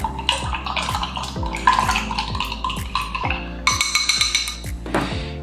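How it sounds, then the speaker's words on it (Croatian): A spoon stirs a powdered nutrient drink into about 200 ml of water in a container, making a steady run of quick, close, bright clinks against the sides with a soft liquid swirl underneath. "I to sve lijepo promiješamo."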